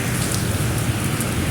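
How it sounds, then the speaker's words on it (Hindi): Heavy rain pours down in a village, a dense, loud, unbroken hiss of drops hitting the ground and standing water, with no voices. "पानी काफ़ी खड़ा हो चुका है और बारिश अभी भी काफ़ी तेज़ हो रही है।"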